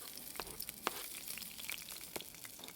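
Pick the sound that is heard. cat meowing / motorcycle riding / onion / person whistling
onion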